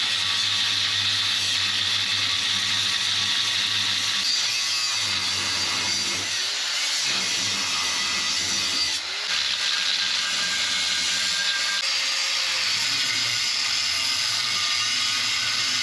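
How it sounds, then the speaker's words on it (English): A Diablo cut-off wheel grinds through a steel ZJ bumper, a loud, steady, high-pitched abrasive whine with small shifts in pitch as it bites, running continuously with no talk. "Diablo cut off."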